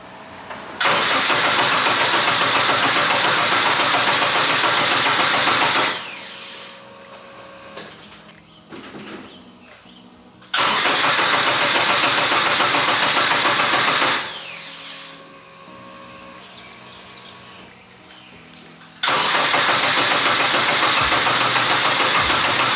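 A BMW E30 fitted with a swapped Honda K-series engine cranks and fires up loudly, running in three long bursts separated by quieter pauses with faint clatter, in a hot garage after an ECU flash.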